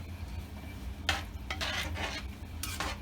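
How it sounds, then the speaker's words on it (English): Chili thickened with masa flour is stirred in a pot: a few short bursts of scraping and sloshing from a spoon, heard close over a low background hum. "So we're gonna give it one last good stir."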